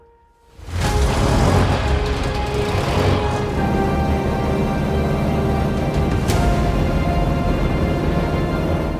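Restored 1924 Mercedes Targa Florio supercharged racing car, its compressor engine running loud and steady close by, a dense continuous roar starting abruptly after a brief quiet moment.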